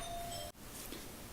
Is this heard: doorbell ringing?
yes